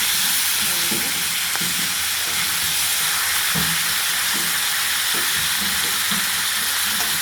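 Roe-filled hilsa fish sizzles and crackles in hot oil for several seconds, a dense, even hiss with a few faint utensil clicks mixed in.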